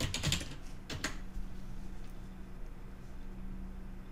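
Quick bursts of typing on a computer keyboard, a few close clicks at the start, then quiet room tone.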